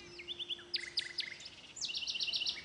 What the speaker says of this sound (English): did you happen to hear the bird as it flew by?